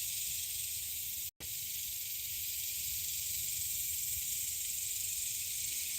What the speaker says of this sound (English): males gather in large groups and chorus together, creating a louder, amplified wall of sound